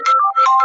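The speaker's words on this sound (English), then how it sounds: "It was my phone." A mobile phone ringtone goes off during an interview, a short loud electronic melody of bright sustained tones in two quick bursts, heard alone with no talk.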